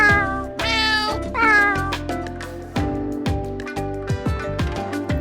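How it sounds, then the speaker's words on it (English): A cat meows repeatedly in loud, close, drawn-out calls that rise and fall, with some strained, caterwaul-like cries and no talk. "But I'm a cat, so all I say is meow"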